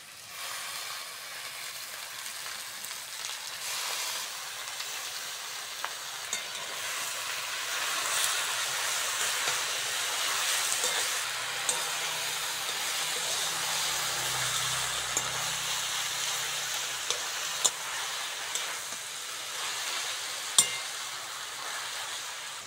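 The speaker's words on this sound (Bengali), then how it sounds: "লবণ, হলুদ, পাট শাকটা ভালো করে ভেজে নেব" Jute leaves frying with onion, tomato and green chilli, salt and turmeric added, in a village kitchen: a long, steady hissing sizzle, moderately loud and close, with a few small clicks from stirring.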